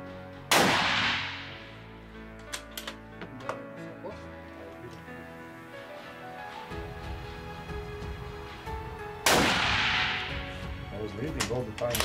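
Gunshots fired at a shooting academy, two sharp loud cracks several seconds apart with ringing decay and some clicks between.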